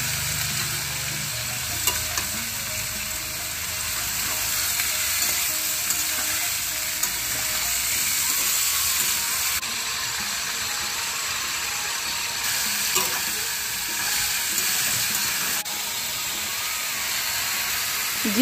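Kohlrabi curry fries in a pan, giving a steady, continuous sizzle with faint stirring scrapes and occasional clicks throughout, close and fairly even in loudness.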